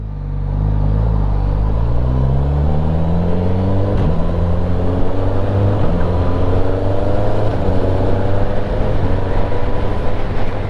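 A 2021 Suzuki GSX-S1000 fighter-style motorcycle engine revs up through the gears with a quick shifter, a loud, steady close-up drone whose pitch climbs in repeated rising sweeps, with no talking.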